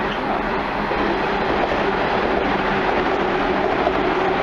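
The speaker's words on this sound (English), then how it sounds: "Shinkansen! We rode that! Shinkansen!" A Shinkansen bullet train in Japan rushes past with a loud, continuous roar that stays steady throughout, without any talking.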